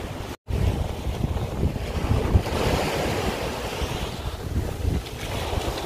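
Surf washing onto a huge tropical beach on Malapascua island near Cebu in the Philippines, a steady broadband roar of breaking waves with wind buffeting the microphone, continuous and fairly close, with a brief dropout near the start.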